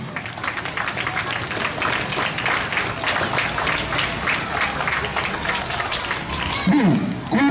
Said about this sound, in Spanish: pido acá fuertes palmas para nuestros padres de familia